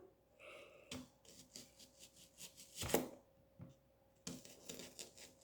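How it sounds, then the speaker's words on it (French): An onion is chopped with a knife in a home kitchen, giving a quiet series of close, uneven crisp cuts with one sharper crunch in the middle and a fresh flurry near the end. "Et je vais découper l'oignon."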